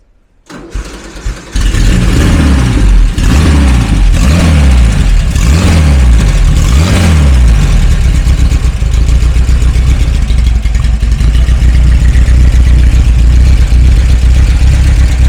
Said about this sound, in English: it sounds crisp, like a proper performance engine